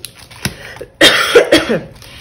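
A few coughs close up: a small one, then a louder, harsher cough that breaks into several rough bursts.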